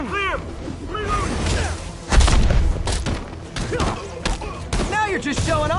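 Weapon fire and explosive booms in the Spider-Man video game, loud thuds and blasts amid chaotic combat, with a strong impact near the midpoint and in-game voices shouting over the action.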